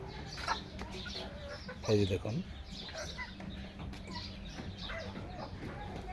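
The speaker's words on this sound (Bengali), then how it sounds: "দেখুন তিতর চীনা মুরগিগুলো কি সুন্দরভাবে" China guinea fowl and chickens cluck and chatter nearby, with one louder burst of clucking, while someone talks over them.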